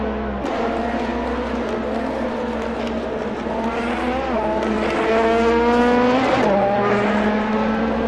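Race car in the final quarter of the Le Mans 5 Hours race, engine screaming steadily with rising and falling gear changes as it rips through, loud and continuous, a brief squeal near the end.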